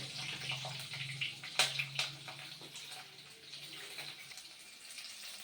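Fenugreek seeds and green chillies sizzle in hot oil, giving a continuous close hiss broken by a few sharp pops and spits near the middle.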